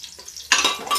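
Dal baati balls being stirred and turned in hot ghee in a pan, a soft scraping followed by a sudden bright sizzle and clatter, close by, with no talk.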